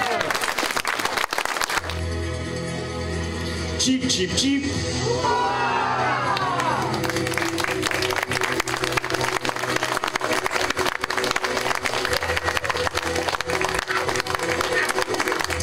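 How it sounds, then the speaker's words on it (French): Audience clapping and cheering at a children's magic show, applause swelling from a couple of seconds in and continuing steadily under a speaking voice and some whoops. "On peut l'applaudir"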